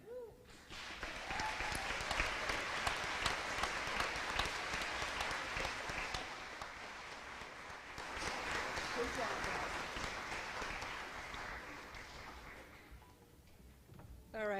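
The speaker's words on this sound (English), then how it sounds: "about one more round of applause for our three seniors" Sustained applause from an audience honoring three graduating seniors at a junior jammers event, a dense, even wash of clapping lasting over ten seconds before tapering off at the end.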